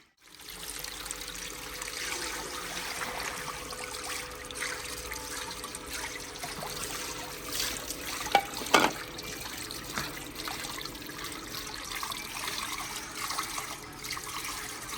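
Tap water runs steadily over raw chicken being washed in a village-style outdoor kitchen, a continuous close trickle and splash with a few sharper splashes midway, and no talking.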